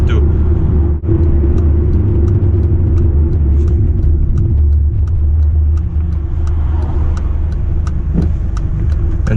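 A Honda Civic Type-R FN2 drives steadily with a continuous engine rumble and road noise inside the cabin, the drone dipping briefly near the start as a gear change goes through.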